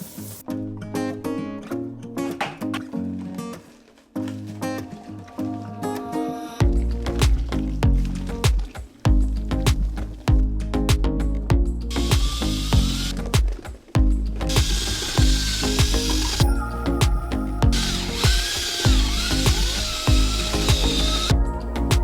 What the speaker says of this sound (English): So I'm gonna go ahead and mix up some mortar